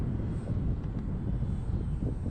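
An E-flite P-51D Mustang model plane, the Blondie, flies in to land on a windy day, its electric motor giving a steady, moderately distant drone with wind rumble throughout.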